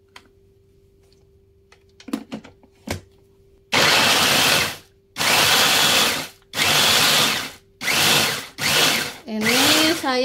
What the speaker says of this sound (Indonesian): Ini saya menghaluskannya pakai chopper.